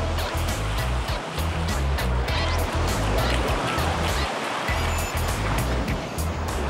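Ocean surf at Bondi beach roars loud and continuous, waves breaking and washing close by in a steady wash of water.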